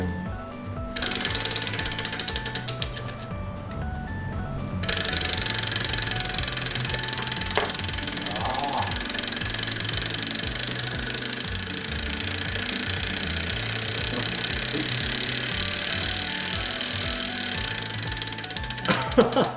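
A small model submarine engine, freshly ignited and straining under a braked load, runs with a steady mechanical ratcheting whir and gear-like clatter, loud and close, continuing unbroken with no talk.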